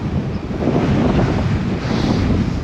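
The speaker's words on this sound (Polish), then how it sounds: "Ale się wiatr zerwał." Loud, gusty wind buffeting the microphone with a broad roar, swelling and easing slightly, no voices.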